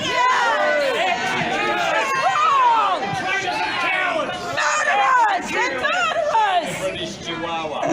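Large outdoor rally crowd in Australia gathered in support of Tommy, a dense babble of many voices with shouts and cheers rising and falling throughout, loud and close.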